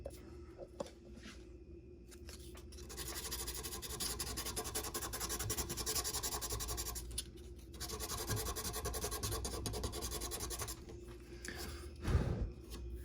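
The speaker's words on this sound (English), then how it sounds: "So now I'm gonna sand the top of this off real quick" The top of a broken guitar nut is sanded down with steady scratchy rubbing strokes that run almost continuously, close up, pausing briefly a few times and ending with a louder scrape.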